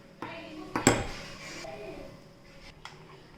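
A spoon stirs yogurt, cream and sugar in a bowl for lassi, giving a few sharp clinks against the rim followed by softer scraping, close and fairly quiet.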